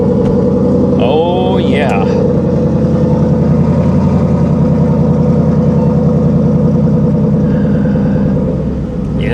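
A 1977 Ford LTD engine turns over and settles into a steady, rumbling idle that runs loud and close throughout, with a brief remark from a voice near the start.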